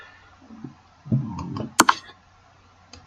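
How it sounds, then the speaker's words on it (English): A few sharp computer mouse clicks in quick succession, close and crisp, with faint handling noise before them in an otherwise quiet room. "That was a mouse click error."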